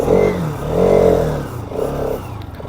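A Pulsar motorcycle being ridden off-road revs up close and loud in three rising and falling surges, with no speech over it.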